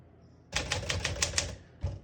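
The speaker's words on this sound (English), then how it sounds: "We're going to keep that on single for now and finish typing." A 1963 Smith-Corona Sterling portable typewriter clacks through a quick run of about eight crisp, close keystrokes, then pauses and strikes once more.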